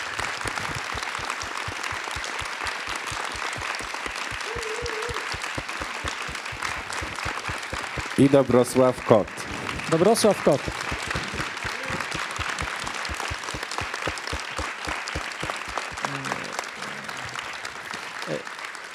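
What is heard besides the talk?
warm applause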